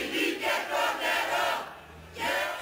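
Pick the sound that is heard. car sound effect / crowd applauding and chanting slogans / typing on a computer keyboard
crowd applauding and chanting slogans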